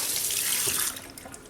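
Tap water runs steadily into a sink while a vinyl reborn doll kit is rinsed, a loud close hiss of flowing water that eases off near the end, with no talk.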